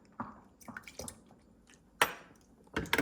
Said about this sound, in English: add a teaspoon of rose water to the syrup